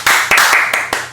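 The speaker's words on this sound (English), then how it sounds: "That was a dad clap." A dad giving a few loud, aggressive hand claps, four or five sharp smacks in quick succession, close and dry.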